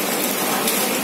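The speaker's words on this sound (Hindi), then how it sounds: "बहुत ही तेज बारिश पड़ रही है, बहुत ही तेज, देखो बारिश का नज़ारा," Heavy rain pours down in a dense, unbroken hiss, loud and close, with no voices over it.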